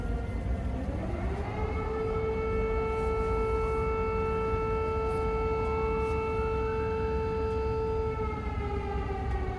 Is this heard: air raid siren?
yes